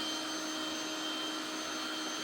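A robot vacuum cleaner and mop runs with a steady, even motor whir and brush hiss that holds at the same level throughout, with no talk over it.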